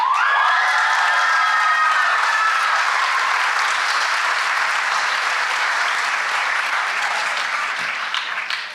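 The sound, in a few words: applause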